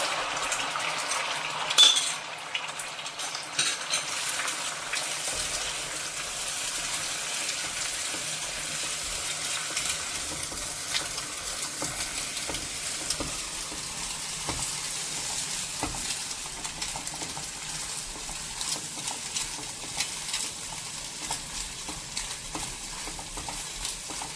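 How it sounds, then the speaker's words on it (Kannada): Three eggs frying in a little oil, a soft continuous sizzle with scattered stirring clicks and scrapes, moderately quiet and close throughout. "ಹೀಗೆ ನಾವು 3 ಮೊಟ್ಟೆಯನ್ನು ಹುರಿದುಕೊಳ್ಳೋಣ. ಸ್ವಲ್ಪ ಎಣ್ಣೆಯಲ್ಲಿ"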